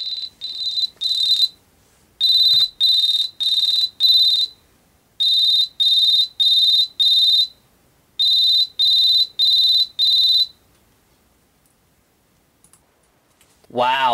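A shrill electronic alarm from an Android phone beeps in rapid repeated bursts, grouped in sets of four with short pauses between, loud and close.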